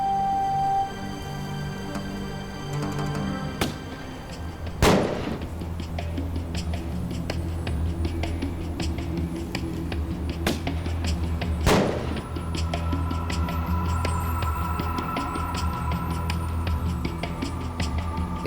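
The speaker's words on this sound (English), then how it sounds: "It remains to be seen if these firecrackers will be enough to scare the bears away for good." Several sharp firecracker bangs, set off by park rangers to scare grizzly bears in Yellowstone, go off at scattered intervals, a couple of them loud and cracking, over a low steady background rumble.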